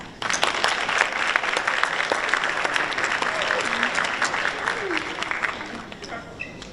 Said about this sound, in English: join me in a round of applause for the people who are with us today